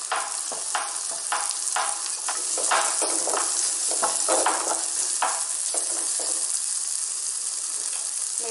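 Onions and tomatoes sautéing in a pan for a yam curry, a steady close sizzle broken by repeated scraping stirs of the spatula, with no talk.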